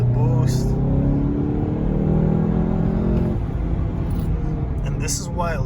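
A 2019 Volkswagen GTI with Stage 1 tuning and a 6-speed manual accelerating hard under boost, its engine note rising in strong harmonic sweeps through the gear, heard from inside the cabin, then easing off as a voice speaks briefly.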